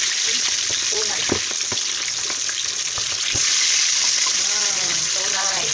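Pork belly fries in hot oil for crispy lechon kawali, a loud, close, continuous sizzle with frequent sharp pops and crackles that grows slightly fuller near the end.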